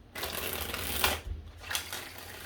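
Several quick bursts of tarot cards being riffled and shuffled, fairly close, with short pauses between the crisp papery flurries.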